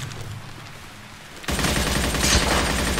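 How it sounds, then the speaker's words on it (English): Shotgun fire in STALCRAFT erupts midway after a quieter stretch, a dense, loud burst of blasts and crackling gunfire that continues without any talk. "He's using a shotgun."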